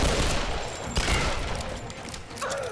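Pistol shots ring out in Tomb Raider, a sharp report standing out amid a dense, noisy game soundscape of crackling fire and rumble, with no talking.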